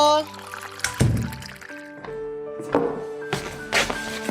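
Water is poured out, with a few splashing, gurgling bursts and thunks in a home, set against sustained background music.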